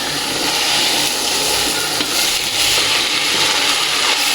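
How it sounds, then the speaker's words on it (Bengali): Rice is tipped into a hot pot of oil for bhuna khichuri, with dal waiting to go in, and gives a steady, loud sizzle and crackle of frying that runs without a break, alone and close up. "আমি এখন চালগুলো দিয়ে দিব।"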